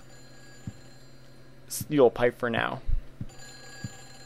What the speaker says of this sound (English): we have another phone call